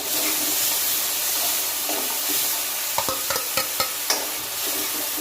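Ginger-garlic paste fries in a pan, giving a bright, constant sizzle, then a run of spoon clinks and stirring taps near the end, no voices.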